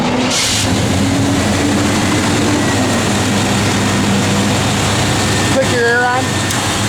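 A 1993 Chevrolet Silverado 1500 engine runs with a steady, loud, close rumble, briefly punctuated by a short voice near the end.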